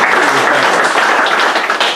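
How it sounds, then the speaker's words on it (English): Audience applause for a working demo at a TADSummit conference session, steady and loud dense clapping from a crowd for the full two seconds with no talk. "we're just going to give you a round of applause for a working demo"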